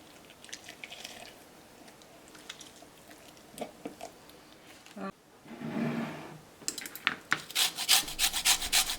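A lemon is zested on a grater, making a rough, scratchy rasping in bursts that becomes louder and more rapid toward the end, with some talking in the background.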